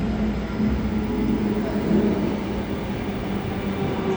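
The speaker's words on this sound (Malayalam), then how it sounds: "അപ്പോൾ നമ്മുടെ ട്രെയിൻ ഇതാ വരുന്നു" A train pulling into a station near Varkala in Kerala, its steady, loud low rumble continuous and close throughout, with no voices.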